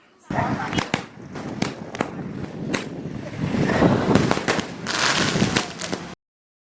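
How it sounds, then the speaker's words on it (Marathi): Sharp bangs from a 60-shot sky shot firework burst at irregular intervals over a loud, roaring wind during Diwali. "60 स्काय शॉट चा दणका आता आपण बघू"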